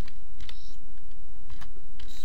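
Keys on a computer keyboard clack in a few short bursts of close, crisp taps over steady background noise.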